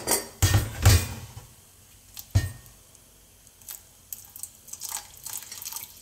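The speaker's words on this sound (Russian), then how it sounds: "Еще часть из этого чайника я налью." Water pours from a Xiaomi kettle, opening with a couple of loud clunks and splashes, then settling into a thin, uneven trickle and scattered drips close by, with no talking.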